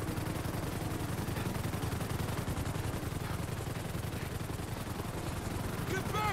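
Rapid gunfire in the GTA 5 video game during a police chase, a dense, continuous burst of shots running the whole stretch over a steady game soundscape with shouted voices mixed in.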